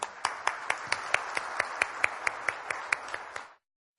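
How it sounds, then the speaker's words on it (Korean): Applause from a conference audience after a keynote speech by Madeleine Albright at a 2010 world strategy forum, a steady patter of many hands with a few sharper claps standing out, ending abruptly after about three and a half seconds. "이렇게 훌륭한 기조 연설을 해주신 Madam Albright께 다시 한번 뜨거운 박수 부탁드립니다"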